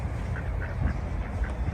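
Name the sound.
ducks quacking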